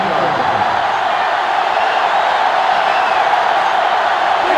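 Steady stadium crowd roar from the NCAA 06 college football video game, Georgia Tech at Miami, with the home crowd urged to its feet; a dense, loud, continuous wash of noise with no breaks.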